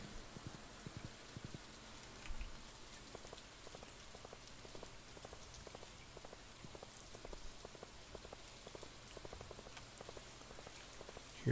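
Steady pattering rain in Stardew Valley, a soft continuous hiss with scattered drip taps and faint croak-like clicks, quiet and even throughout.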